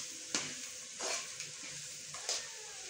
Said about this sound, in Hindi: तो इसको मिक्स कर लेंगे अच्छे तरीके से।